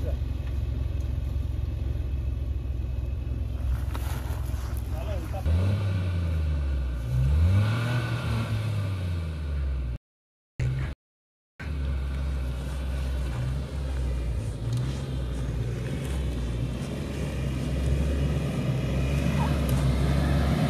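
Overland vehicle stuck on large logs in swampy jungle ground in Moremi Game Reserve, its engine rising and falling through repeated revs over steady rumble, with people talking and a brief dropout partway through.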